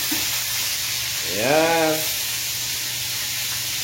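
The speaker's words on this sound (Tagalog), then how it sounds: "luto na tayo ng pritong isda" Fish frying in a pan, a steady close hiss of oil with a short spoken word over it and a brief tonal sweep in the middle.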